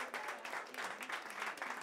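A small crowd at a live music performance claps for a duo, steady, fairly faint applause with a fluttering rhythm and no speech over it.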